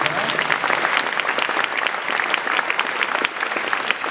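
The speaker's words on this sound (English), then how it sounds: "Please, we can give a round of applause for our judges." Audience applause for the judges at a Young Enterprise South East event in Guildford Cathedral, a steady dense wash of clapping from a large crowd lasting throughout, loud and close.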